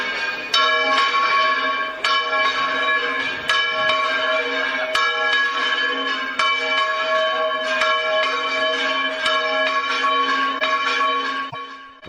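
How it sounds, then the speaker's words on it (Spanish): The church bell of Igea in La Rioja rings loud and close, giving regular metallic strikes about every second and a half, each one ringing out into a sustained shimmering tone. "Pues así suena la campana de Igea."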